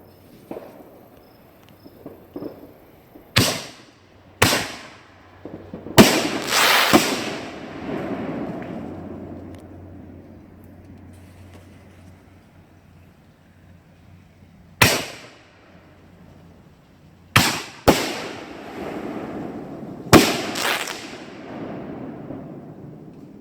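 Excalibur and Spud Gun canister firework shells fired at night outdoors: a series of sharp launch thumps followed by loud bursts with crackling, echoing tails, about eight reports spread irregularly over the stretch, with crickets chirping faintly between them.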